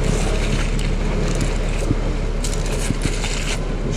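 A low, steady engine rumble of a hotel narrowboat chugging nearby on a canal, with scraping and crunching noises layered on top and no speech.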